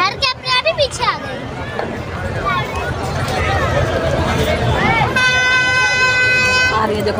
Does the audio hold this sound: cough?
no